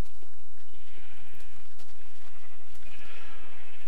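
Repeated sheep bleats from a Minecraft video game, several short wavering calls spread over a few seconds against faint background noise, with no voices.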